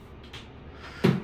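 A bathroom cabinet set behind a mirror in a Palm Jumeirah apartment is opened: faint light rustling, then one sharp close clack of the door near the end.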